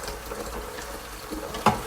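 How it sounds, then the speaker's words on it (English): Water runs from a kitchen tap into a container while lemonade is being made, a soft steady splashing trickle with a brief louder splash near the end. "while the water fills up"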